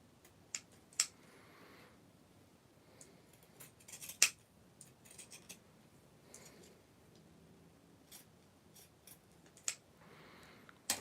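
Scissors snip through material while making a doll outfit, a scattered series of sharp, close clicking cuts with quiet pauses between them and no voices.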